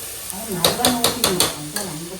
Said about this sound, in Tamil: வதக்கணும் நல்லா வதக்கு